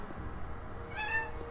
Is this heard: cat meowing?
yes